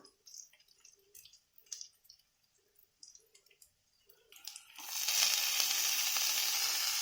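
Amaranth leaves dropped into hot tempering oil burst into a loud, steady sizzle after a few seconds of quieter clinks and small drips, the frying hiss filling the rest of the clip.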